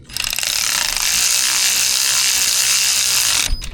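Rapid ratchet clicking tightens a thermostat housing bolt on a 2014-2023 Jeep Cherokee 2.4L four-cylinder, one continuous close, loud run of clicks lasting a few seconds before it stops.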